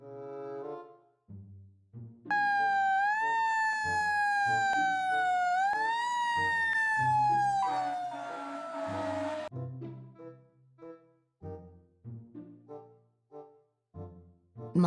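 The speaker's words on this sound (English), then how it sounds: "Fire truck." A toy fire truck's electronic siren wails loudly for about seven seconds, rising and falling in pitch, with voice-like sounds before and after.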